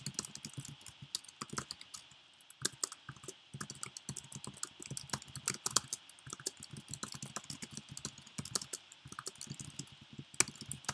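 Rapid, irregular clicking of keys on a computer keyboard as code is typed, with bursts of close keystrokes and short pauses, steady and moderately quiet with no voices.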